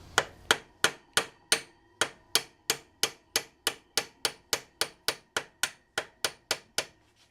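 A hammer tapping a barrel pin out of a gun barrel held in a vise, about twenty sharp metallic strikes in a steady, even rhythm, close and clear with no talking.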